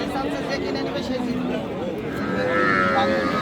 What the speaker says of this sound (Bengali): দর্শক এই যে একটা অল্প বাজেটের গরু